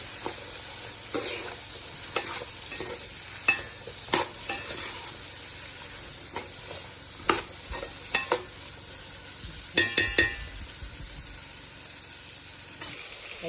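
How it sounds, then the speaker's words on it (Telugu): Asafoetida tempering being stirred in a pan while cooking bottle gourd and toor dal pulusu, with a soft sizzle under scattered scrapes and clinks of a spoon against the metal pan, up close. "కొద్దిగా కలబెడుతున్నాను ఇప్పుడు"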